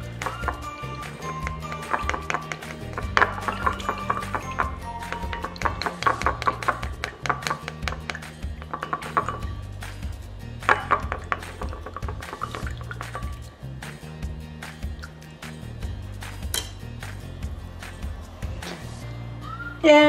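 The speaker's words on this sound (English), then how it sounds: "use something to stir it" Salt being stirred into water in a container, a continuous run of clinking, scraping and sloshing strokes with irregular rhythm, close and moderately loud, with faint background tones underneath and no talking.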